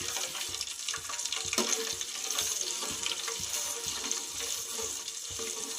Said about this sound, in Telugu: కొంచెం వేగిన తర్వాత ఆయిల్ అయితే బాగా మరిగింది.